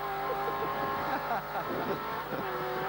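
Turbocharged touring cars race in the 1986 Australian Touring Car Championship, their engines blending into a continuous, fairly close roar with shifting pitch and a faint tyre squeal.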